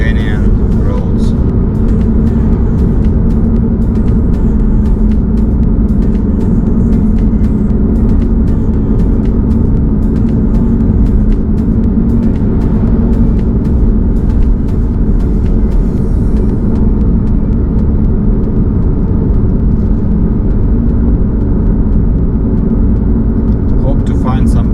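Inside a car driving on Lithuanian roads on the way to Vilnius, a loud, constant low road rumble and engine drone persist throughout, with occasional light rattles and no talking.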